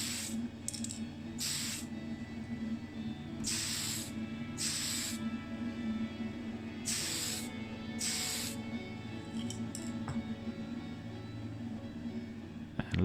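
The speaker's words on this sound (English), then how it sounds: "And then, courtesy of our friend Tony, we've got the TS14, which I'm going to spray just to freshen up the base." Aerosol spray of TS14 paint onto a Ferrari F40 model base, heard as several short hissing bursts of one to two seconds each, close and fairly loud, separated by pauses over a steady low background hum.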